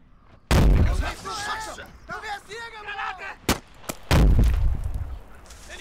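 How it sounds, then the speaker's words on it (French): Grenade explosions in the World War II game Gates of Hell Ostfront, two loud booming blasts a few seconds apart, with chatter and a voice speaking between them. "Deuxième grenade."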